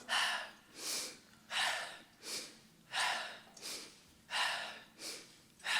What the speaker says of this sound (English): So again, the breathing exercise, we'll exhale out.